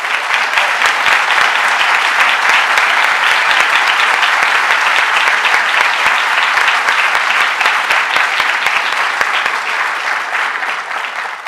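Sustained audience applause for the MIT Clean Energy Prize winners at a lecture hall, a dense steady wash of many hands clapping that holds loud for the whole stretch and tapers slightly at the end.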